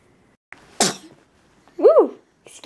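A baby's small sneeze, a short sharp burst, followed a moment later by a soft squeaky vocal sound; quiet room otherwise.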